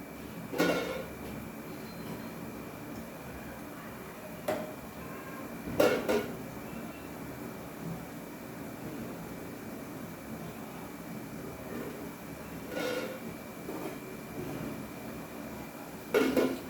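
Urad dal sev frying in hot oil, a steady close hiss of bubbling oil that runs throughout, broken by a few short clatters of utensils.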